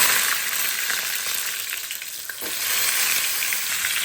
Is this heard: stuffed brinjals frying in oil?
yes